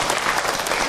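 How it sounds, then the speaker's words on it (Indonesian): Dense, continuous applause from an audience at an Islamic evening sermon gathering, a thick uninterrupted wash of many hands clapping for about a second. "tepuk tangan buat Aiman."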